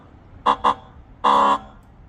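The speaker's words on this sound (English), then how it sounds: "let's hear the new updated Cybertruck horn" A Tesla Cybertruck horn, with its updated tone, sounds two short quick beeps, then one longer blast, loud and close with quiet between.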